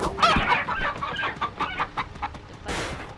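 A video game chicken clucks repeatedly in short, uneven bursts, close and fairly loud, with a brief squawk near the end.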